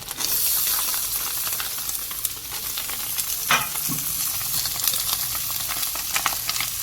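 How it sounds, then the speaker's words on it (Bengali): Steady broadband sizzling of an egg frying in a pan, continuous and close, with a few brief scraping or stirring clicks partway through. "ডিমটা ভালো করে ভাজা হয়ে গেছে"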